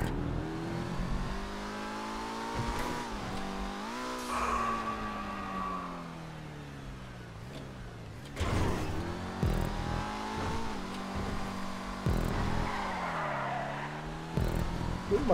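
Car engine in Grand Theft Auto V revving and accelerating through loops, with rising and falling pitch, tire skids and squeals throughout, loud and continuous with no talk.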